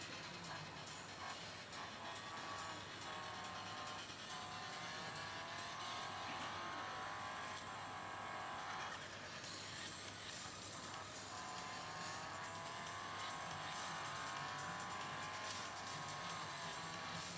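A faint, steady engine whine rises and falls in pitch as gears shift, a continuous synthetic racing-car drone from an Android racing video game.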